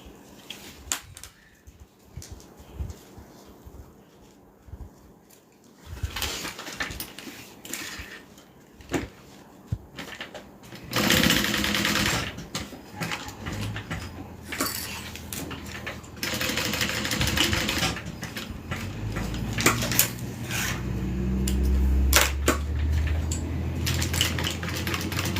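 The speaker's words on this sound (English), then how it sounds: "Do another double fold and then sew that in place" Sewing machine stitching a bag strap in place, starting and stopping in several bursts of mechanical whir and clatter, louder and longer toward the end, with handling clicks between runs.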